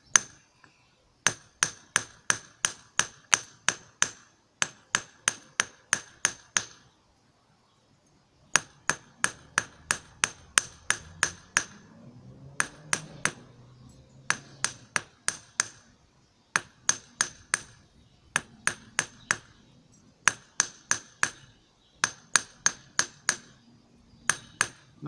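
Rapid bursts of hammer strikes texture a wire spiral for a Viking triskelion pendant, sharp metallic taps in quick runs of a dozen or so blows, separated by short pauses, close and clear with no talking.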